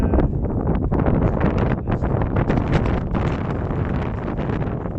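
Gusty wind at Saltcoats Catholic Cemetery in Lytham buffets the microphone, producing a loud, rumbling roar with uneven bursts throughout.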